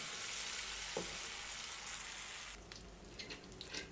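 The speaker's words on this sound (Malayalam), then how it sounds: "കോളിഫ്ലവർ ഇട്ട് ഫ്രൈ ചെയ്തെടുക്കാം." Cauliflower pieces deep-frying in hot oil for gobi manchurian, a steady dense hiss of bubbling oil with a few faint pops and light stirring clicks toward the end.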